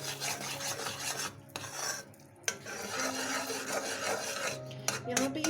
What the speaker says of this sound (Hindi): बटर को मेल्ट होने तक इसे चम्मच चलाती रहूँगी मैं